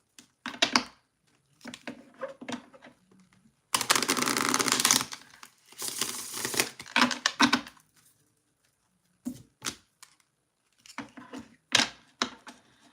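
Cards are shuffled in short bursts of rapid riffling and tapping, separated by quiet pauses, close and fairly soft.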